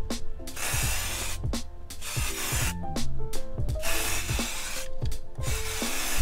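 Spray painting of sanded windshield wiper arms for a Nissan S15 Silvia, with bursts of aerosol hiss broken by short pauses and knocking handling sounds, close and fairly steady.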